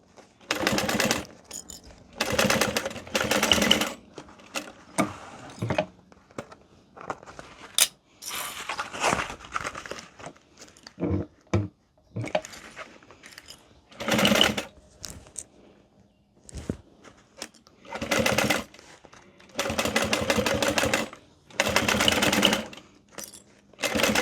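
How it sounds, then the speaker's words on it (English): A sewing machine back stitches over a D-ring while sewing a modified Erica Bowler bag, running in short, close, steady bursts separated by brief pauses, with no talking. "You can do a little back stitch over that D-ring also."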